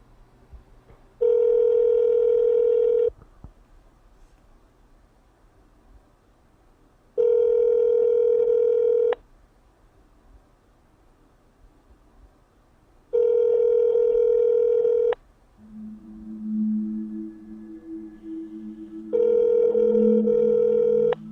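A telephone call goes through: four loud, evenly spaced ringback tones sound about every six seconds, with a lower electronic tone pattern appearing between the last two rings.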